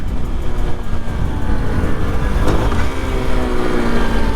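A 1997 Honda C50 motorcycle ridden at speed gives a loud, continuous engine drone mixed with rushing wind, steady and close for the whole stretch.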